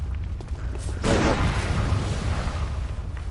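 In the video game Bloodborne, the rifle spear's transforming power attack lands as a single heavy, booming burst, loud and close, followed by a fading rumble over steady game background noise.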